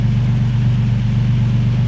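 A 37-year-old Ford Capri engine idles steadily just under 1,000 rpm. It gives a loud, close, even low rumble with no change in pace and no voices over it.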